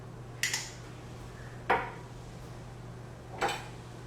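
A utensil mixes almond butter in a bowl, giving three separate soft scraping clinks spaced a second or two apart. They are close but faint over a quiet background hum, with no speech.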